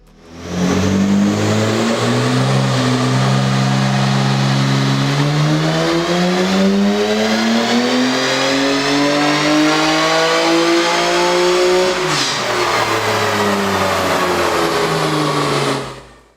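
A Nissan Skyline GT-R R35 engine revs loud and close, its pitch climbing in long sweeps, dropping sharply near the middle, then rising again in a sustained roar with no talk over it.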